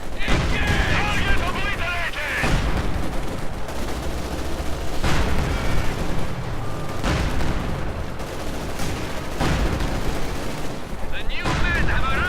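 Dense gunfire and booming blasts from a Company of Heroes 2 battle between tank destroyers, Panzer Grenadiers and conscripts keep up a constant din, with a commentator's voice running beneath the shooting.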